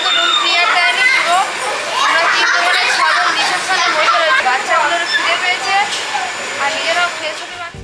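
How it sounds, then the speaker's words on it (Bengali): Children shout, squeal and chatter as they play in an echoing indoor space, their lively voices close and continuous throughout. "তাই রিসেপশানেই ওরা খেলা শুরু করেছে যেটাকে ওরা খেলার মাঠ বানিয়ে নিয়েছে"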